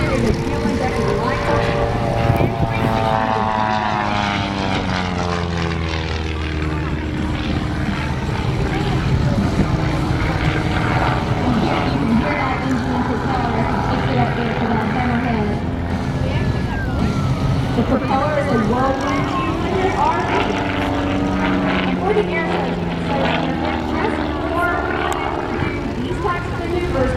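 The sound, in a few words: propeller airplane flying at an air show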